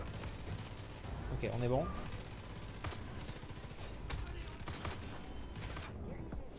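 Video game gunfire sounds as sharp repeated shots in irregular bursts, some loud and some fainter, mixed with a person talking over the action.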